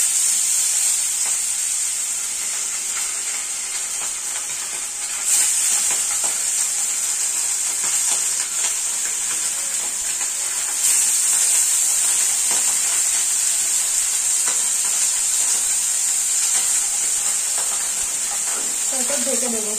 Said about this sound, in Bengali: তেলটা ভালোভাবে গরম হয়ে গেছে, আমি এবার মাছগুলো ছেড়ে দেবো।